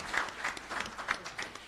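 A small crowd applauds at an expo gathering with uneven, scattered clapping at moderate loudness, a short burst with no clear speech over it.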